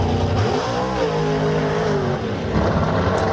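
A drag race car at Atco and Island Dragway launches off the line without its two-step launch control engaged, giving a loud, close engine roar with rising and falling revs over about three seconds, alone with no talk.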